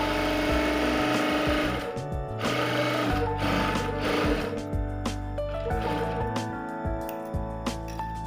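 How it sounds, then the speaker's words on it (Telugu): Sewing machine running a straight stitch down a lining blouse, a close, steady mechanical whir broken by short stops and restarts. "అలాగే స్ట్రైట్గా ఇలా కిందికి స్టిచ్చింగ్ వేసుకోవాలి."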